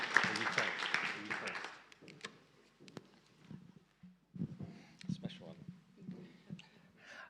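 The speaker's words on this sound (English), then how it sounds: "why don't we give Val and Rosie a round of applause" An audience applauds at a community gathering on responding to knife crime: a burst of clapping for about two seconds that quickly dies away into quiet rustling and low voices.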